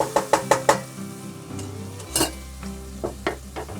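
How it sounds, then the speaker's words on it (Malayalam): A spoon knocks against a pan four times in quick succession, then spiralized zucchini pasta in olive oil sizzles softly while being stirred, with scattered scrapes and taps close by. "ഇതൊന്ന് ഇളക്കാം."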